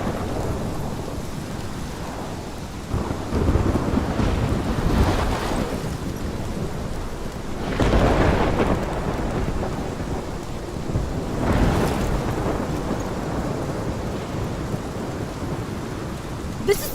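A thunderstorm with steady heavy rain, broken by three deep rolling thunder rumbles spaced several seconds apart, each swelling loudly and then fading back into the constant downpour.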